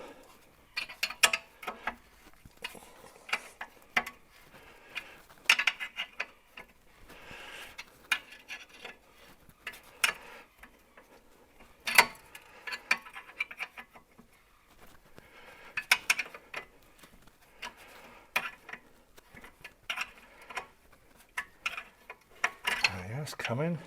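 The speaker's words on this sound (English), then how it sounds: "I just have to persevere with the spanner." A spanner works on a brake fitting of a Jaguar XKR that sat for 11 years, irregular metallic clicks and ratcheting taps spaced through a quiet garage.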